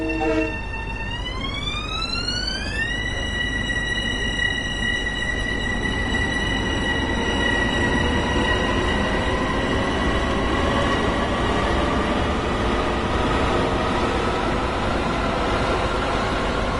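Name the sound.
train arriving at station, Train Sim World video game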